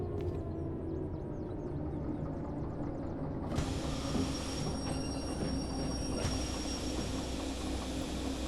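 A train rolls along in the Derail Valley video game with a constant low rumble of wheels and engine, and a bright metallic squeal joins partway through and carries on steadily.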